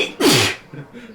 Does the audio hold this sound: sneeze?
yes